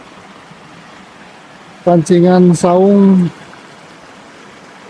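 A river flows past a mountain campsite at Cisalak in West Java, a steady faint rushing hiss in the background throughout, briefly covered by someone speaking in the middle.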